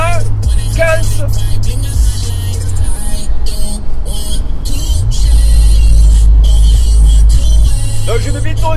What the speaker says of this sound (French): je suis pas dans le camion là, je suis dans la voiture